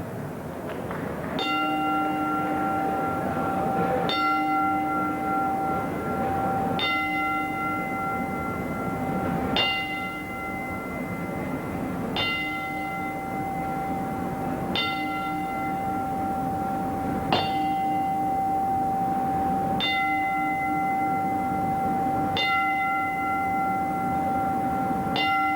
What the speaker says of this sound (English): would you toll the bell 10 times in memory of the doyen of referees, Terry Riley